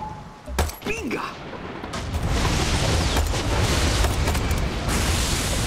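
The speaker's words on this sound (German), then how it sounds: "Hier explodiert irgendwie alles gerade" Explosions and gunfire crash through a Far Cry 6 battle, the din building into a loud, sustained roar after a couple of sharp early blasts, with a brief voice near the start.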